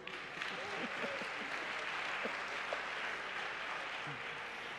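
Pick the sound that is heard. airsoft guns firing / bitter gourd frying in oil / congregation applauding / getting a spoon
congregation applauding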